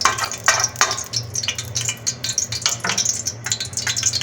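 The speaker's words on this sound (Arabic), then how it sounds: "سامعين السمنه قدحت اهي" Ghee heating in a pan gives a steady crackling sizzle, with scattered bright pops and spatters over a low rumble throughout.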